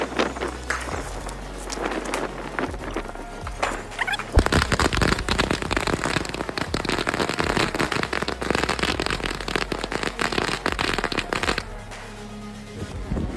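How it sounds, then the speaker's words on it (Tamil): A long 1000-count Diwali firecracker string bursting in a rapid, dense crackling barrage, loud and close, fading to a few scattered pops at the end. "நெக்ஸ்ட் நம்ம 1K வாலா வெடிப்போம்."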